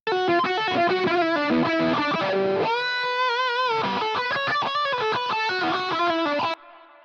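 A distorted lead guitar plays a fast melodic line, its notes echoed by quick, short ping-pong delay repeats with little feedback that bounce back and forth, then the tail cuts off.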